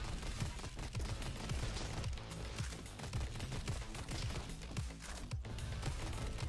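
Dense, steady gunfire in the shooter Roboquest, continuous overlapping shots and impacts at high intensity throughout, with no pause.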